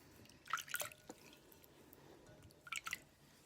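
Water splashes and drips while exfoliating scrub is rinsed off an arm, two short close bursts of splattering and dripping separated by a quiet gap.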